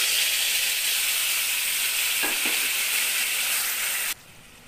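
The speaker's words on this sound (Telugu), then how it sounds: "ఆ తర్వాత పిండి ఉంచుకున్న చింతపండు గుజ్జు కాగుతున్న ఆయిల్లో ఇలా వేసుకోవాలి." Tamarind pulp dropped into hot oil in a pan sizzles loudly and steadily, a dense continuous hiss with a brief stirring clatter midway before cutting off abruptly near the end.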